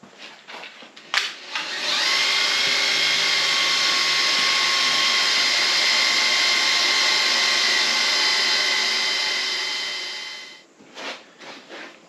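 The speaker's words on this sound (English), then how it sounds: "What Daryl's doing right now is he's putting some duct tape on the drill bit" Power drill running steadily on a black walnut live-edge picnic table top, its bit wrapped with duct tape as a depth stop; a loud continuous whine holds for about eight seconds after a brief start, then winds down, with faint clatter before and after.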